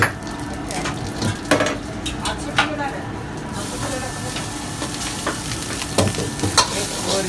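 Jeera rice fries and sizzles in a pan at an Indian thali restaurant in Pune, with a continuous close hiss. Irregular scrapes and clanks of stirring break through it, and voices talk underneath.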